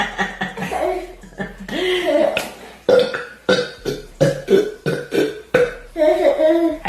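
A string of loud, close, guttural burps comes from a girl at a dinner table, several in quick succession, mixed with chuckling, laughter and a few voiced sounds.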